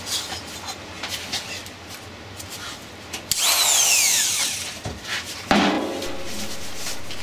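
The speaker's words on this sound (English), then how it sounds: "I'm going to have to take a cutoff tool and cut it off shorter" A cutoff tool grinds through the shaft of a squirrel cage motor in short, close bursts of high whining and scraping, with a loud screech partway through.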